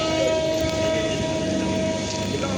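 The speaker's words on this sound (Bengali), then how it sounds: "ট্রেনটা যাক, তারপর দেখাচ্ছি" A passing train rolls by steadily at close range, a continuous rumble with a sustained horn-like tone, near a station or track in Faridpur, Bangladesh; no voices heard.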